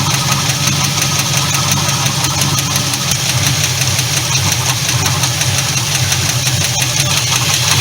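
A 1976 Ford LTD engine idling loudly up close, a steady mechanical rumble with a fast, even clicking knock running through it, alone with no talking.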